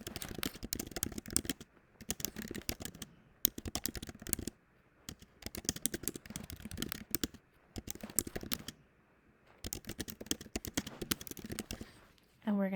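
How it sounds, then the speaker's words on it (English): Computer keyboard typing in bursts of rapid, fairly close clicks separated by short pauses, with a brief other sound right at the end. "So we'll type that in"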